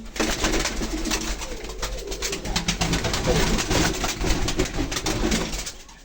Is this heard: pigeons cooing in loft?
yes